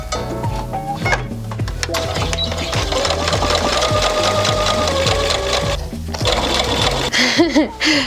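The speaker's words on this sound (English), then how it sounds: "so I can just sew it all together at the same time on the sewing machine" A sewing machine stitches a bustier dress seam up close, its needle chattering in a fast even rhythm, then pauses briefly before starting again.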